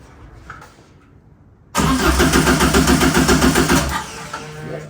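Subaru engine fitted in a Porsche 911 replica being cranked over without catching: after a quiet start, a loud, steady rhythmic churn of the starter runs for about two seconds, then stops, with no engine firing.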